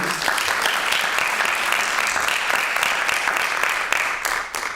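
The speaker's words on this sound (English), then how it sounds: "Let's get a warm round of applause for our authors." A book festival audience gives a warm round of applause for two authors, steady crowd clapping with a few distinct sharp claps, thinning slightly near the end.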